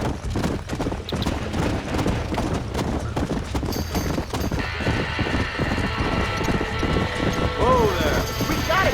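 Galloping horse hooves in the Red Dead Redemption video game, a steady rapid clip-clop with a whinny, near and loud under a busy game mix of music and effects while people talk.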